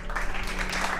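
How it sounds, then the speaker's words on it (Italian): A thin, sparse applause sound effect played as a deliberately meager clapping cue, steady and brief with a low hum underneath and no talking. "non posso mettere l'applauso povero?"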